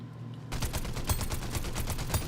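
A gun fires in Fortnite: after a half-second lull, a rapid, steady burst of loud, close shots rattles out in an even rhythm of about eight reports, with no talk over it.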